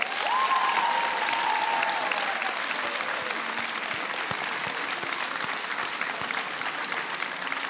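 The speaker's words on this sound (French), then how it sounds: "un tonnerre d'applaudissements pour elle" Dense, sustained applause from an audience at the final of a French student eloquence contest, loud and even throughout with a brief whistle-like tone near the start.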